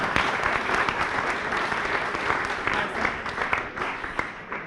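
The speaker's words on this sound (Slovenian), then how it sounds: "En aplavz za Natalijo." Audience applause for Natalija at a Slovenian startup sales talk, a dense steady wash of clapping from a room full of people that keeps going for the whole stretch at an even level.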